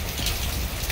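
Steady rain in Sierra Leone falls with a dense, even hiss and a low patter, continuous through one brief second and heard alone.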